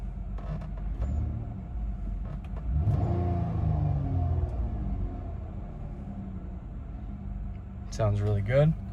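A 2015 Dodge Grand Caravan wheelchair van engine idles with a low steady rumble and a brief rise in revs, heard up close while someone speaks over it.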